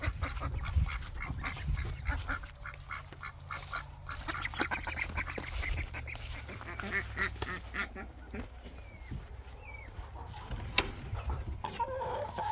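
Chickens and Swedish ducks cluck and quack together in a backyard flock, with scattered calls rising over steady low background noise throughout and no speech.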